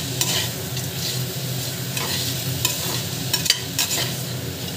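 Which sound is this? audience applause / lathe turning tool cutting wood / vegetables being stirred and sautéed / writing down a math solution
vegetables being stirred and sautéed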